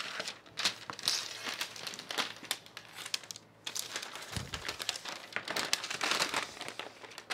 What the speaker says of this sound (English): This is a directional fabric, so I obviously have to cut it with the direction.